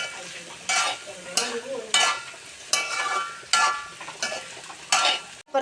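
Sardine and mango fish curry bubbling in a cooking pot, with a steady simmering hiss broken by regular bursts of louder sputtering roughly every second, close by and with no talking.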